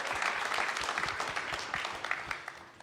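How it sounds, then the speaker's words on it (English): An audience claps for board members at an equity reception, a steady round of applause that holds at full strength for a few seconds and tails off slightly near the end. "So give a round of applause for our board."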